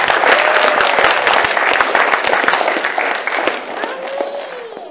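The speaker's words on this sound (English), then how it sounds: "Let's give them the round of applause." A congregation at a 16th wedding anniversary vow renewal breaks into loud, dense applause that holds steady and then slowly fades. A few voices can be heard through it.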